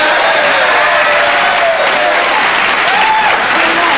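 Sustained, loud studio audience applause from a late-night talk show fills the whole stretch, a dense steady wash of clapping with a few faint voices mixed in.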